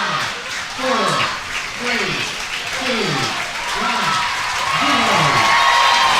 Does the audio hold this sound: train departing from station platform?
no